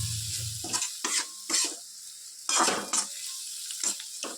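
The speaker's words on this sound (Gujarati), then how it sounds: "ખાલી મસાલાને આપણે સોતે કરવાનો છે, બહુ વધારે પકવવાનો નથી." Masala spices sautéed and stirred in a pan for samosa filling, heard as a soft sizzle under several distinct scraping stirs that come in separate bursts, near and fairly loud, with no talking.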